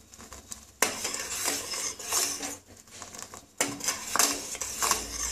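A spoon scrapes and clinks against a pan as a spicy sugarcane jaggery chutney is stirred, the metallic scraping and rattling coming in bursts, close and fairly loud, with no talking.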